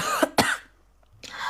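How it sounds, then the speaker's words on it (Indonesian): Two sharp coughs in quick succession, close and fairly loud, followed by a short pause and a breathy rasp at the end. "Kok batuk ya?"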